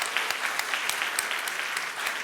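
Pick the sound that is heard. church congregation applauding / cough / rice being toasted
church congregation applauding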